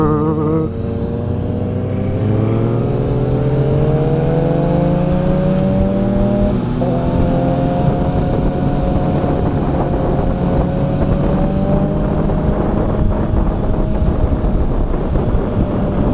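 A Kawasaki ZRX1100 motorcycle accelerating onto the GA400 highway near Atlanta, its engine rising in pitch through a gear shift and then holding a loud steady drone, close to the rider, with strong wind rush.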